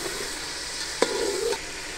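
Beef frying in a pot for golden yakhni pulao, a steady close sizzle with one sharp stirring scrape and a brief louder hiss partway through.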